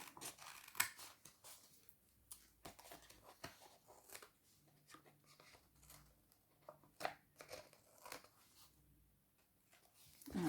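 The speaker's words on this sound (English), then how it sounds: "I'm going to take my scissors and I'm going to trim off here" Quiet, close snips and crisp paper rustles come in irregular bursts as scissors trim a sheet, with soft handling noises in between.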